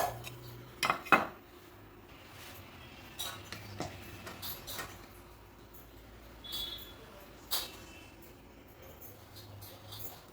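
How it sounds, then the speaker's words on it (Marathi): A metal idli steamer plate is greased with a little oil, giving scattered light clinks and scrapes of steel against steel over a quiet kitchen background, with a couple of sharper knocks near the start. "आता आपल्याला हे जे इडलीचं पात्र आहे त्याला थोडंसं तेल लावून घ्यायचं आहे"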